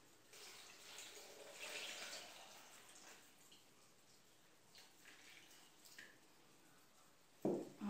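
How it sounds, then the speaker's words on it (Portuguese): Water is poured into a blender jar for a detox juice, a quiet trickling splash that swells over the first few seconds and then thins to faint drips, with a sharper clatter near the end. "Vamos adicionar água."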